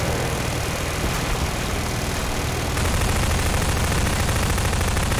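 Machine gun fire in Garry's Mod, a dense, loud, unbroken automatic burst with no pauses, filling the whole stretch alone.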